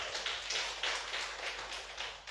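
A congregation at a Saturday youth church service clapping together to welcome the pastor, a dense, steady wash of many hands with rhythmic swells, fairly loud and close, without talk.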